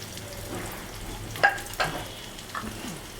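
Onions and dried red chili frying in a small pan as they are stirred, a soft steady sizzle with a few brief scraping clatters from the spoon.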